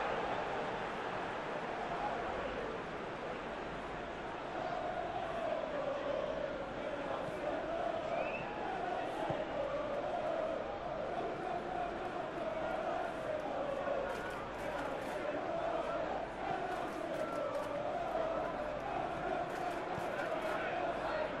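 A Premier League football stadium crowd at a Manchester United vs Everton match, a steady, broad roar of many voices that swells and murmurs throughout, sitting under commentary.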